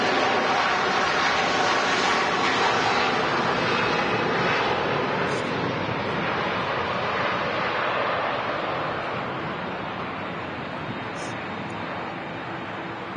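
A wide-body airliner roars steadily as it rotates on takeoff at Manchester Airport, a broad, loud engine rumble that slowly fades as it climbs away, with faint talk over it.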